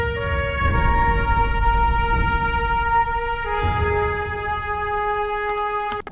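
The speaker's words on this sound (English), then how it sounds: "And an out of tune chime" An out-of-tune chime sounds in a music intro, its sustained, slightly dissonant tones ringing steadily over a low, dark rumble, with a couple of brief struck accents partway through.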